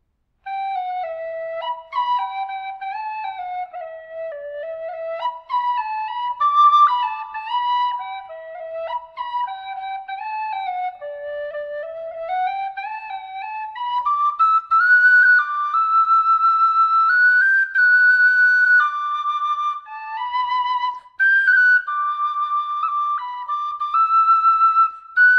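A Jerry Freeman Mellow Dog high D pennywhistle plays a slow, flowing melody alone, its clear notes trailing off into a spacious reverb.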